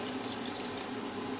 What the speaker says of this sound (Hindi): मैंने पानी डाला है ताकि मेरा जो लोबिया है ये अच्छी तरह गल जाए।